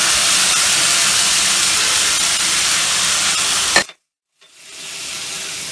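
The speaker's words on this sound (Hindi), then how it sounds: "प्याज को ब्राउन होने तक भूनेंगे।" Ground paste of two medium onions hits hot oil with cumin, giving a loud, steady steam-like sizzle that cuts off abruptly and then returns as a softer hiss.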